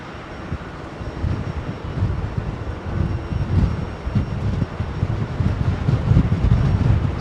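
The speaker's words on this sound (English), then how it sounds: "Qantas 787." A Qantas Boeing 787 airliner at London Heathrow gives a low, steady jet roar from some distance, mixed with wind buffeting, and the roar grows slightly louder toward the end.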